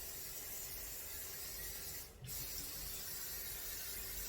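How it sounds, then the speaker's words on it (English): Aerosol butter spray misted onto bread: a faint, continuous hiss that briefly cuts out midway before resuming. "And you can just give them a spray."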